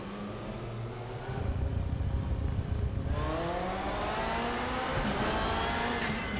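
A BMW E92 race car, an IMSA machine, in the RaceRoom racing game. Its engine fires up and revs hard, rising in pitch with aggressive acceleration and staying loud and close throughout.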